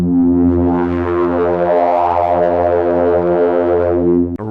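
A synthesized brass stab with lengthened sustain for progressive house, one loud, rich, buzzy chord held for over four seconds before cutting off, with no voices.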